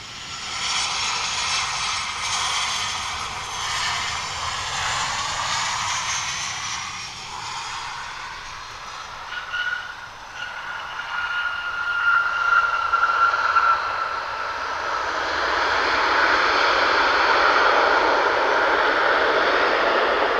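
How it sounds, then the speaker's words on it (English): Southwest Airlines jet landing on runway 18 left at Austin-Bergstrom airport, a long roaring whine that swells and fades as the plane passes, with engine tones sliding in pitch and a broad rushing roar building toward the end. "So if I had my runways correct here, this is landing on runway 18 left"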